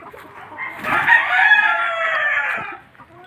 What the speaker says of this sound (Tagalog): McLean hatch po yan. So may dalawa po tayong stag doon.